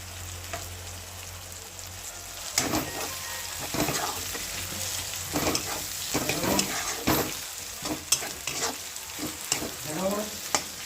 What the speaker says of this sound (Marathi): त्याच्यात टाकू आता ढोबळी मिरची.